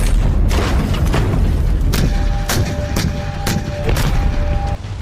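Indian Army artillery guns fire during the Teesta Prahar exercise, a series of loud booming blasts about every half second to a second, with a continuous rumble of the field setting beneath.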